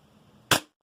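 A single sharp shot from a Walther PPQ VFC Umarex airsoft pistol cracks out once, close and loud, after near silence, then decays quickly into quiet.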